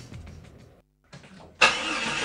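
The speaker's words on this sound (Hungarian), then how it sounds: "Reggelente nehezen indul az autója?" A car engine cranks in short bursts, goes briefly silent, then catches and roars to life loudly at close range.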